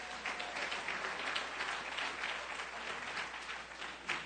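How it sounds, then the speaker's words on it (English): Sustained applause from a church audience at a Black History Month event, steady clapping filling the room for several seconds with no voices over it. "Give yourselves a round of applause for that."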